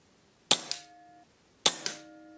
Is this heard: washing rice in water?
no